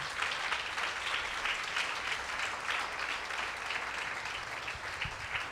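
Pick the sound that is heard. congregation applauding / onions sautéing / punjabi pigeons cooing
congregation applauding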